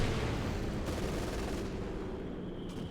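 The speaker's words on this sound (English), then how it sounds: "Mortar emplacement keeps blasting away there." Mortar blasts and gunfire from a Company of Heroes 2 battle roll on as a dense, steady rumble of explosions, with a few sharper bangs rising out of the din.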